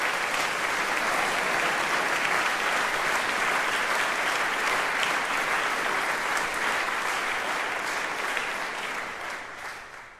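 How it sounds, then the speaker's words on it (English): Sustained, dense clapping from a large audience at a music school convocation, a full crowd applauding steadily for about ten seconds before tapering off near the end. "So another round of applause for everybody who did that."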